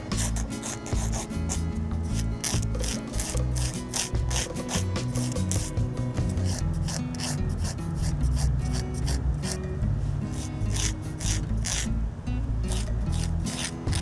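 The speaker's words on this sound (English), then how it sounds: "just go in one direction and just kind of file it just to my liking" Continuous rhythmic rasping of a nail file stroked in one direction across fingernails during a home manicure, close and steady.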